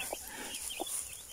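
A silkie hen with her five chicks makes soft, brief clucking calls, a few short notes spaced across the moment, fairly close and quiet against a faint hiss.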